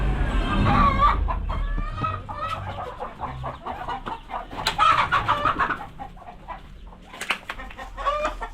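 Native chickens cluck close by in a steady run of short, overlapping calls, with a few sharper squawks and no voices.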